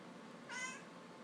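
A female cat lets out a single short, clear meow, close by in a quiet room.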